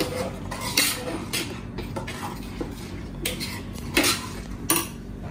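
A metal spoon clinks and scrapes against a pot as garam masala goes in, in several distinct knocks over a low background hiss.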